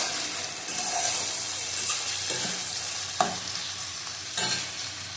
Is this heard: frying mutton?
yes